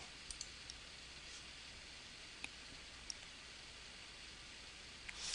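A computer mouse clicks a few times in a quiet office while an order is invoiced in accounting software, with sparse, faint, isolated clicks over a low background hiss.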